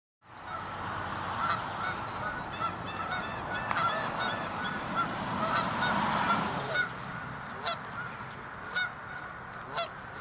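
A flock of geese honks continuously and loudly, many calls overlapping, with a few sharper isolated honks standing out toward the end.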